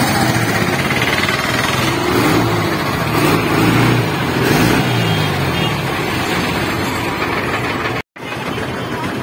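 A regular bus idles in front of the Gajanan Maharaj temple, its dense, rattling engine noise loud and continuous for several seconds before a brief cut near the end.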